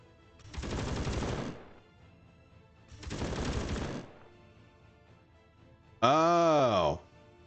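Turret gunfire in the video game Space Engineers, two loud one-second bursts of rapid shots a couple of seconds apart, then a voice speaking briefly.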